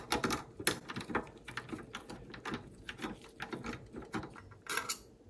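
A ratchet or screwdriver clicks while screws come out of a Samsung computer monitor stand, quiet, close, rapid mechanical ticking and ratcheting in uneven bursts, no talk.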